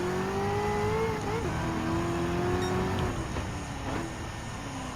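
Race car engine from the Gran Turismo 7 video game, a steady loud drone with rising and falling pitch as the car chases a rival toward an overtake, continuous throughout with no talking.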